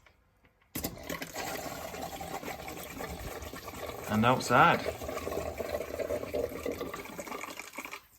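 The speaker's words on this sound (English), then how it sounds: "It's going to let the fish tank water come down through the filter." Aquarium water draining by gravity through a Fluval FX6 canister filter from a Juwel Rio 350 tank, a steady rushing, gurgling flow with a brief louder bubbling surge midway, under a few words of speech.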